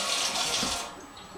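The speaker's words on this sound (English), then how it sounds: "now I just run them under the cold tap" Cold tap water running over doll hair at a sink, a steady close hiss of flowing water that eases off partway through, with no talk.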